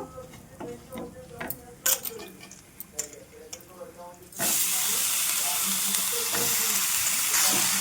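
Brinjal pieces drop into hot masala tempering with turmeric, setting off a sudden loud, steady sizzle after a few seconds of quieter ticks and kitchen clatter, the frying hiss holding strong to the end.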